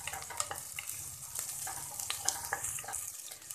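Potato pieces frying in oil over a medium-high flame while being stirred, a soft continuous sizzle with scraping and clinking of a utensil against the pan, fairly quiet and close.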